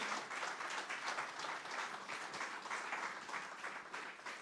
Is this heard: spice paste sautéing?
no